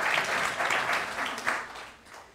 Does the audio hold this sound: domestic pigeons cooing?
no